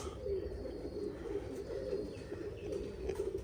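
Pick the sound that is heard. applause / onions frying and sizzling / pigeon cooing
pigeon cooing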